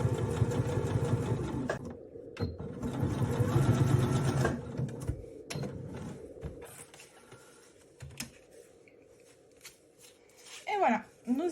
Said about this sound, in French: nous avons donc cousu notre passepoil à nos deux coupons